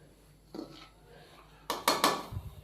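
Rice is layered over chickpeas in a cooking pot, giving a few soft scrapes, then a quick cluster of sharp metallic clinks from a spoon against the pot, close and fairly quiet.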